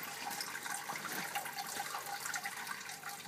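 An aquaponics bell siphon draining water from a grow bed: a steady, fairly faint rush and gurgle of flowing water, continuous and close by with no talk.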